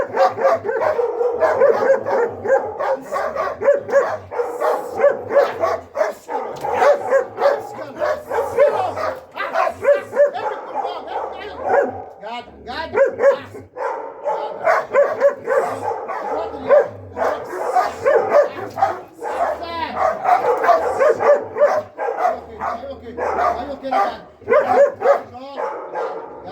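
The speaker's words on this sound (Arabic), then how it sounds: "وغير الكلاب اللي هي بيبقى الكلب يهوهو بس" A guard dog barks repeatedly and close by in rapid, insistent volleys, mixed with yips and a few whimpers, continuing throughout with someone speaking at times under the barking.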